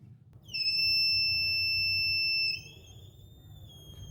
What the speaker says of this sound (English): When you put your sensor in the water, it starts beeping.